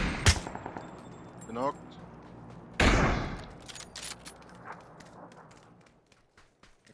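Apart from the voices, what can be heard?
gunfire in the video game PUBG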